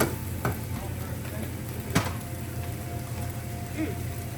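Wooden spoon and chopstick stirring fried rice with spinach in a pan, a steady scraping and clatter with a couple of sharper knocks, set against a low frying hiss throughout.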